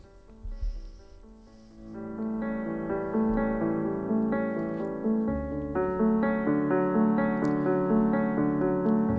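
Instrumental music with layered sustained tones and a melodic line, starting softly and swelling fuller after a couple of seconds, steady and moderately loud.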